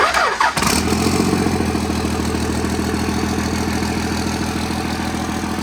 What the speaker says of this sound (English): just grab the old starter wire and crank her over